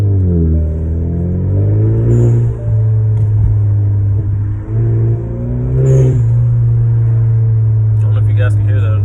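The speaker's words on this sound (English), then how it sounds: "Get some sound clips of the blow-off valve, and hopefully I can pick up my exhaust crackles." Hyundai Sonata 2.0T with an HKS SQV4 blow-off valve, engine revving and rising in pitch through the gears, with short hissing bursts from the valve between pulls, recorded from inside the car under talk.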